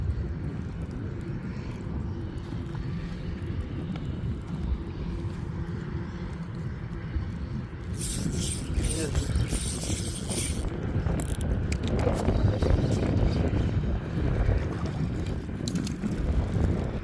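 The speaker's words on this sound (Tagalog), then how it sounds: "Lakas ng hangin." Strong wind roars and buffets the microphone on a fishing outing, growing louder and gustier midway, with a broad rushing noise and no talking.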